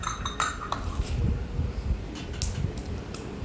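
Metal clinks and clatter as a lid is handled and set over a kadai of hilsa fish and eggplant curry, a few sharp close chinks over a low background rumble.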